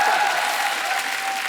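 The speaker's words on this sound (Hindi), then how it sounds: "ये जब तालियां मारते हैं ना" Studio audience applause on a Hindi comedy talk show, a dense sustained round of clapping heard close and fairly loud throughout the short moment.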